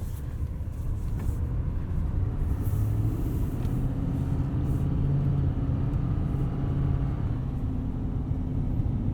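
Steady low rumble of a 2020 Chevrolet Silverado 2500 Duramax diesel 4WD crew cab driving on the road, heard from inside the cab, smooth and even with a constant engine and road drone throughout.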